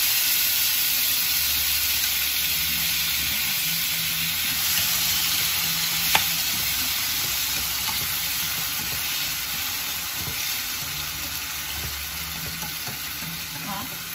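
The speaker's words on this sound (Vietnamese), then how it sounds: "Mình sẽ xào với dầu và hành tỏi vào đây." Chopped tomatoes stir-fry in oil with onion and garlic for a Dalat-style crab noodle soup, giving a steady close sizzle and hiss throughout with occasional stirring scrapes.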